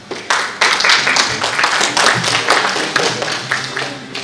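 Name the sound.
audience applause at awards ceremony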